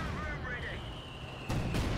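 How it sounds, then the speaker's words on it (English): Mortar fire in the World War II strategy game Company of Heroes 2, with a rumbling impact and low booms near the end over ambient battlefield noise, plus a faint tonal whine earlier. "More mortar fire here though."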